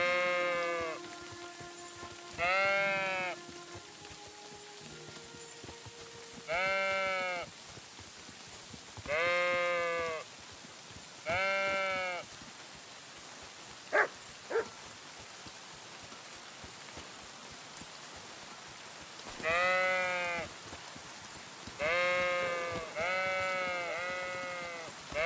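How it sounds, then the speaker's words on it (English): Sheep bleat repeatedly in Kingdom Come Deliverance 2, wavering calls scattered across a rainy pasture ambience, some close and loud, others overlapping in clusters. "Sheep."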